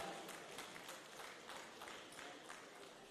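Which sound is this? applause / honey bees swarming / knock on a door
applause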